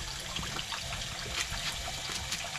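Water trickles steadily from the tap of an off-grid water pump run only by a solar panel, a thin continuous splash with a light broadband hiss and no talk over it.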